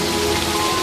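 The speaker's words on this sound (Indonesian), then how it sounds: "Malam itu hujan terdengar sangatlah deras" Heavy rain pouring at night in the 1996 film Carried Away, a dense steady wash of drops hitting surfaces, loud and constant throughout.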